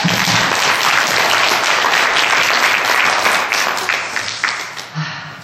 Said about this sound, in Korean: 영광의 박수 한번 올려드리겠습니다